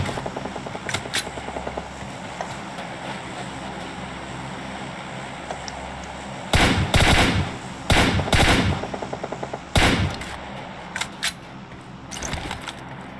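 Gunfire in the military shooter Squad lays down suppressive fire: sharp bursts of automatic shots in several clusters, loud and close, over a constant ambient background.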